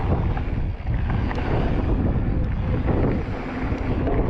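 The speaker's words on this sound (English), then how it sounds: "At the top of the hill, the wind really was throwing me off" Strong wind gusts buffet the microphone on a hilltop at a bike park, producing a loud, continuous rumbling roar that dips only briefly.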